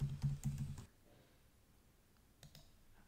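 A quick burst of keyboard typing, several close clicks in under a second, followed by near silence and a couple of faint isolated taps.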